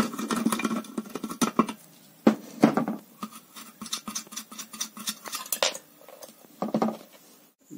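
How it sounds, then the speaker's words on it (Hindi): A nut being loosened and removed on an electric clothes iron, with irregular light metallic clicks, taps and scrapes of the tool and parts, close by and without speech. "दोस्तों, ये वाला नट खोलेंगे।"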